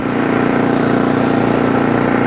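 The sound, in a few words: Ariens Compact 24 snow blower engine running, augers spinning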